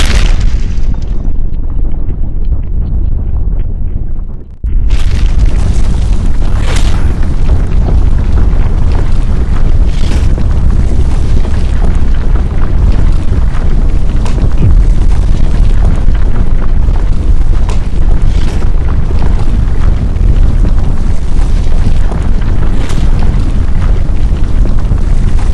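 Powerful explosion sound effect for a ground strike in an action manhwa recap, a very loud rumbling blast that starts after a short lead-in and roars continuously with repeated booming bursts.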